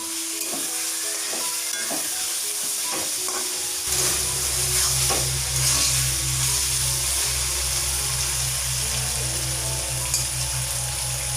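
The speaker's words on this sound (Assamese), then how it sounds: "এতিয়া ঢাকন খুলি ল'ম আৰু লৰাই ল'ম" A paneer, potato, pointed gourd and tomato curry sizzles steadily in a pan while a spoon scrapes and stirs through it, with a constant frying hiss and a few clinks of utensil against metal, with no voices.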